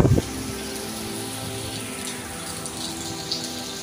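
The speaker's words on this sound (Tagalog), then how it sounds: "Ngayon, nabuhusan naman yung ulan" Dense, steady typhoon rain pours down continuously, a loud even wash of water with a brief louder splash at the very start.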